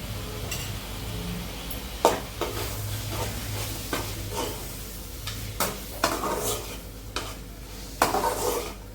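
Chicken sizzles in a pan with tomato and onion masala while a spoon stirs it, scraping and clinking against the metal in repeated strokes over a steady frying hiss.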